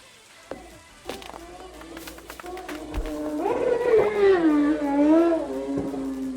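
A motorcycle rips down a road outdoors, its engine note rising into a loud, wavering whine that swells and holds, starting faint and growing louder, with scattered knocks and taps before it.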